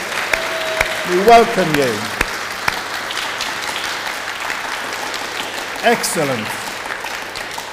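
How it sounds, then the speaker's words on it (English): A church congregation claps at moderate loudness throughout while a speaker's amplified voice and a brief reply ring out over the applause in a reverberant hall. "give him a round of applause"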